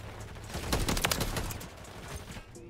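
Rapid bursts of gunfire in the Call of Duty MW3 multiplayer shooter, a short cluster of cracking shots at middle distance that trails off within a couple of seconds.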